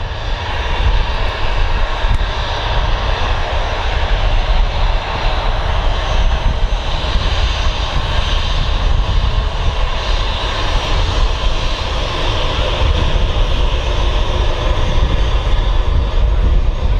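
A jet airliner on the runway at Manchester Airport, a loud steady engine roar with broad rumble and whine, sustained and unbroken for the whole stretch with no talk.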